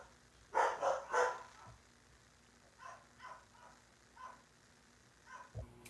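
Dogs barking indoors, a burst of three loud barks followed by a few fainter, more distant barks and yips spread across the clip, with quiet pauses between.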